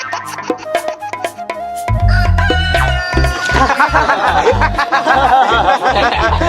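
A person imitates a chicken, clucking and crowing in bursts over a loud, rhythmic backing beat in a playful comedic punishment scene.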